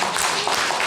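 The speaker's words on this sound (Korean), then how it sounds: "우리 박수로 환영하겠습니다" A Korean church congregation at a Sunday worship service in Daejeon breaks into a short, dense burst of hand clapping to welcome a new member. The applause is close, even and continuous throughout.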